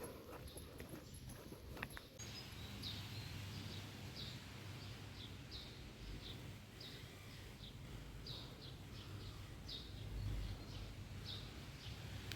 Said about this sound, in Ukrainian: Сподіваюсь, чутно було, як пташки співають. Так гучно було.